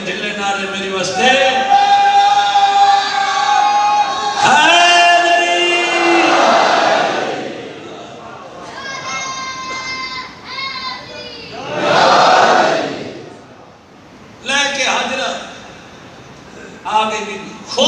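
Crowd at a majlis in an imambargah in Bhakkar shouts religious slogans in loud, repeated bursts, alternating with a male leader's calls and brief quieter gaps.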